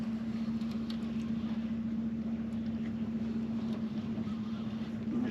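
A trolling motor drives a catfishing boat across shallow water, a steady low hum with water wash, close and constant throughout with no talk.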